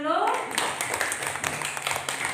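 Brief burst of clapping from students in a classroom applauding a group, fairly close, with a voice tone at the start and the clapping running on underneath.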